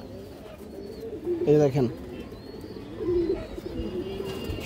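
A pigeon coos once, close and clear, then again more softly, among other pigeons, while someone speaks briefly.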